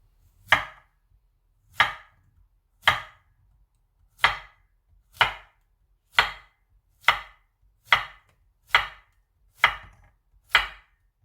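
A knife slices a washed zucchini into thick 0.5 cm rounds on a cutting board, eleven crisp, evenly spaced chops close by in a quiet room.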